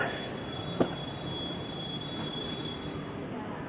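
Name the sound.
Jakarta LRT train arriving at platform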